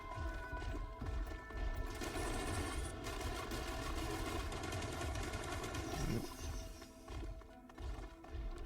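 Commando gunfire in the video game Risk of Rain while fighting a Clay Dunestrider, steady dense rapid shots under a constant wash of game music and effects, moderately loud throughout.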